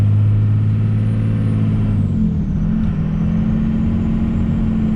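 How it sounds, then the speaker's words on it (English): Cummins diesel truck with a 47RE automatic transmission, throttle worked in steady pulses to coax a shift; a loud, close low engine drone holds a firm pitch, then drops and changes character partway through as the gear change comes. "that's me modulating the throttle to kind of help try and get it to shift"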